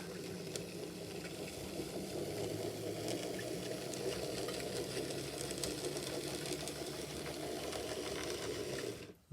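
A Hornby TT120 Class 66 model locomotive runs with its wheels slipping, giving a close, steady mechanical whirr and rattle with fine ticking, continuous for several seconds before cutting off abruptly at the end.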